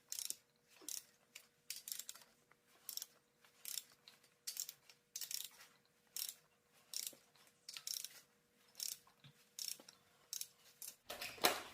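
Repeated ratchet clicking as bolts are loosened one by one on the bottom end of a Honda H22A4 Prelude engine, in short bursts with brief pauses between them, close and fairly quiet throughout.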